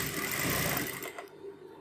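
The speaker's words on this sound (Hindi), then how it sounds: "यहाँ से आपको बहुत धीरे धीरे मशीन चलानी है।" A sewing machine stitches a kanchali blouse, its needle running in a steady fast chatter for about a second before slowing and stopping near the end.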